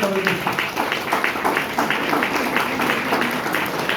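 An audience claps after a poem at a university gathering, a steady burst of applause heard close while a voice talks over it.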